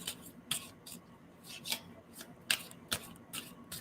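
Tarot cards are shuffled by hand close up, a quiet series of soft riffling swishes and light taps at an uneven pace, with no voices.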